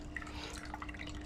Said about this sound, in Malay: Kita cedok air.